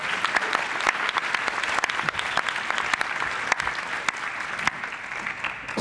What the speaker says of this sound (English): Let's give our debaters a round of applause before we start this session.